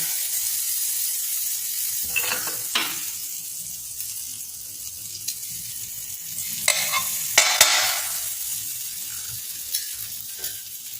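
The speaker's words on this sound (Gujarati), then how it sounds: "હવે આપણો આ તવો ગરમ થઈ ગયો છે, તો તેમાં આપણે બટર નાખીશું." Butter sizzles on a hot tawa over a gas flame while pav bhaji is prepared, a soft steady frying hiss broken by occasional scraping and stirring clatter, close up with no talking.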